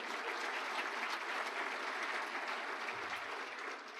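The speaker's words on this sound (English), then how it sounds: "Let's give them a round of applause." Sustained audience applause fills a luncheon hall, a dense steady wash of many hands clapping that thins slightly toward the end, with no talk over it.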